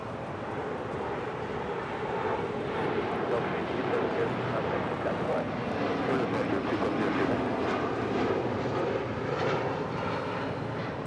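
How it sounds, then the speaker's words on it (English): A Gulfstream G650 business jet departing Los Angeles International Airport gives a steady, broad roar that holds at constant loudness throughout, heard at a distance outdoors with no talking. "That is a Gulfstream G650 departing to Teterboro."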